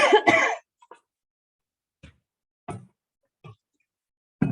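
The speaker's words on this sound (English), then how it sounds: "Sorry, I got this darn cough that won't go away." A persistent cough during a community mental health board meeting: one loud double cough followed by several faint, short throat sounds spaced out over a few seconds, with no talk.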